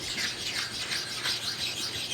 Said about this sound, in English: the first thing I want to do is stone this this magnetic chuck